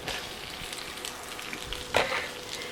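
Steady, crackling sizzle of onions and peppers frying in a hot pot, with a brief louder spatter near the end.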